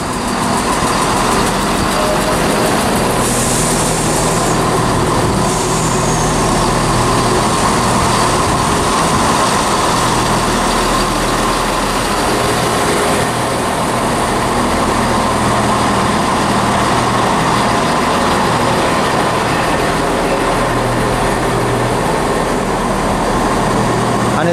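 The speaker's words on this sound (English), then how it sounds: "arriving now is a terminating Chiltern Railways service from London Marylebone" A four-car Chiltern Railways Class 168 diesel unit rumbles steadily into Oxford station, its engine droning loudly and continuously throughout with wheel clatter and low idling throb, no speech over it.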